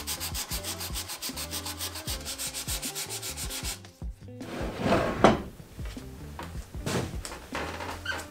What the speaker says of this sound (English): So I'm going to just sand it, and that should take it right off and give us a clean edge.